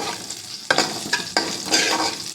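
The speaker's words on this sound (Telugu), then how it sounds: "ఇలా ఫ్రై అవుతూ ఉంటాయండి, మీకు చూపిస్తాను." Mustard seeds, cumin and dried red chilies fry in hot oil for a tempering, a loud continuous sizzle with a few sharper crackling bursts as the pan is stirred.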